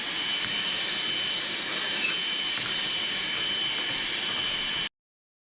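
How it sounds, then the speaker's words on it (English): A Bauer handheld shop vac sucks up debris in a workshop with a steady, loud whooshing roar that runs unbroken for about five seconds and then cuts off abruptly. "Gonna vacuum up all this crap with my Bauer shop vac, hand vac thing here."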